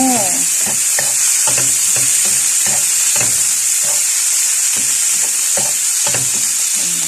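Shrimp fries in a pan for adobong sitaw, a constant close sizzle with repeated scraping and stirring clatters of a utensil against the pan throughout.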